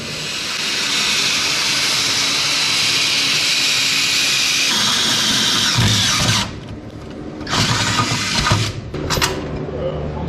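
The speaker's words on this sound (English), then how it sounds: "I need to drill 2 holes right here" Power drill boring holes in a steel transmission crossmember on a Chevy Squarebody during a 4L60E install, a loud sustained whine lasting about six seconds, then shorter bursts with brief pauses, close by.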